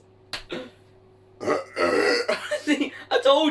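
A loud, gravelly burp after drinking Dr Pepper, followed by several people talking and laughing nearby.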